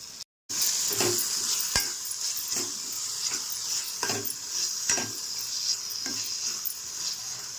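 Crab curry masala with curry leaves and coriander frying in a pan, a continuous sizzle broken by repeated scrapes and stirs of a spoon, close and fairly loud after a brief silent gap at the start.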